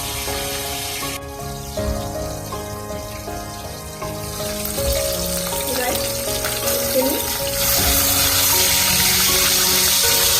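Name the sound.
rohu fish pieces frying in oil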